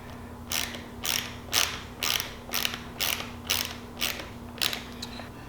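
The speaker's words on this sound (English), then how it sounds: "And a 10mm wrench." A 10mm ratcheting wrench tightens windshield bracket bolts on a 2022 Polaris Ranger 570 SP, giving about ten even, close clicking strokes over a faint steady hum.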